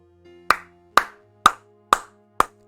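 Five sharp, evenly spaced hand claps ring out close and alone, each a crisp slap with a quick decay, over a faint background hum.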